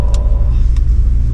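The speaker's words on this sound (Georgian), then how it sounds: "ეს ავტომობილი არის Range Rover Velar 2018 წლის" A 2018 Range Rover Velar on the move, giving a steady low road rumble and engine drone heard from inside the cabin, continuous and fairly loud with no talking.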